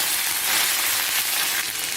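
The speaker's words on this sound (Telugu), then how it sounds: "పోపు దినుసులు వేగిపోయాయి" Tempering spices, dried red chillies and curry leaves sputter and sizzle in hot oil, a continuous crackling hiss holding steady and fairly loud throughout.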